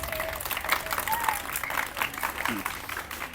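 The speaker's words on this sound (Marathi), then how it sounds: "टाळ्या वाजवा सर्वांनी." An audience at a school quiz-show event applauds steadily for a seventh-grade student taking the hot seat, a dense, even patter of clapping at moderate distance that continues for several seconds with faint voices underneath.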